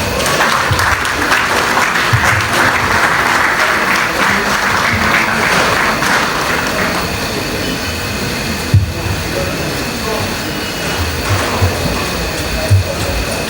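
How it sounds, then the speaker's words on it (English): An audience at a Nigerian gaming conference claps after a speech, a dense wash of applause that fades after several seconds into scattered claps and room noise. "Was that a clap?"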